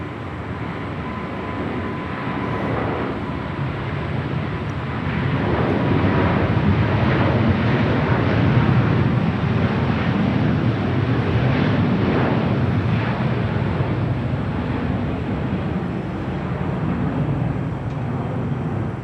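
Jet airplane taking off down runway 25 right at Los Angeles International Airport, a broad steady rumbling roar that swells and holds with wind noise on the microphone.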